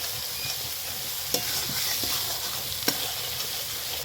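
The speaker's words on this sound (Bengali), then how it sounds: "এখন আরও সুন্দরভাবে আমি মশলাটাকে কষিয়ে নেব কিছুক্ষণ সময় নিয়ে" Salt, turmeric and coriander powder fry with chicken in a pan. The sizzle is soft and steady, with occasional sharp clicks of a spatula against the pan.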